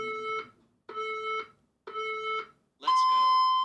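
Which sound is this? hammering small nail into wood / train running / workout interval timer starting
workout interval timer starting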